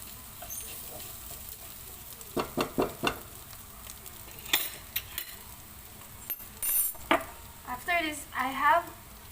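Leftover food frying in a pan for fried rice, a soft sizzle under a series of irregular scraping and clattering stirs, some quick and squeaky, fairly close.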